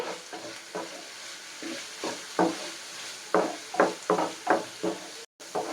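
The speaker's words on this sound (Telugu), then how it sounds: "కారం కూడా వేసుకుని బాగా మిక్స్ చేసేసుకోవాలి" Raw prawns being mixed with salt and chili powder in a bowl, a series of wet squelching, scraping stirs in an irregular rhythm, close and moderately loud, with a brief silent gap near the end.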